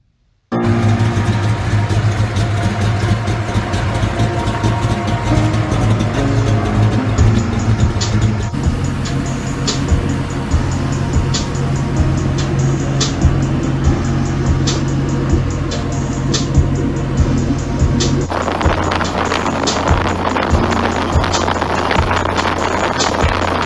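A custom Kawasaki ZX-14 motorcycle with a chrome 300 fat tire kit runs outdoors, its engine a steady continuous drone mixed with heavy wind buffeting on the microphone, with changes in tone partway through.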